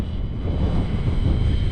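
A Durafly Goblin RC model plane flies fast through gusty winter wind, its electric motor giving a steady, fairly loud drone mixed with wind rumble, with no voices.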